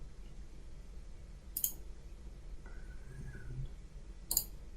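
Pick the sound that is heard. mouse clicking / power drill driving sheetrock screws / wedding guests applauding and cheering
mouse clicking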